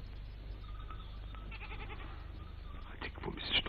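Goats bleating on a farm, a few faint, scattered calls over a steady low rumble, growing slightly louder toward the end.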